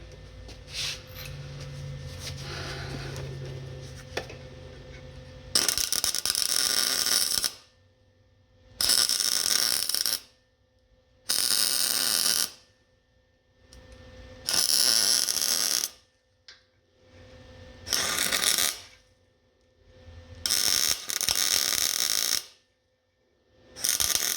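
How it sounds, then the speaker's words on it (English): Welding on a 1948 Chevy truck: several bursts of harsh buzzing arc crackle, each a second or two long with short silent gaps between, fairly close, following a quieter stretch of shop noise. "let's weld that in"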